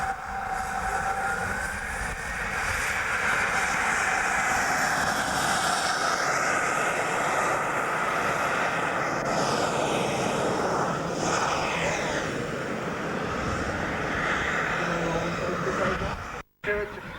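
A model F-16 jet flying at a Scottish model airshow in 2002 makes a sustained, loud turbine roar that swells and fades as it passes, with a rising and falling whine over outdoor background.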